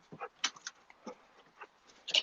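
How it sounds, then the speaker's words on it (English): A big dog whimpers and yelps in about five short, separate bursts spread across a couple of seconds, fairly close and at moderate loudness, with quiet gaps between them. "Big dogs."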